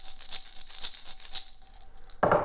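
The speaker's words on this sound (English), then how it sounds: "This one is the small bits of pasta," Shaken homemade instrument filled with small bits of dried pasta gives three bright, crisp rattling bursts in a steady rhythm, then a louder rustling knock at the end.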